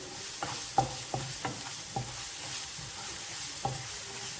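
Tapioca with added salt is stirred in a pan, a steady sizzle of frying running underneath while a spoon scrapes and knocks against the pan in a handful of sharp, irregular strokes.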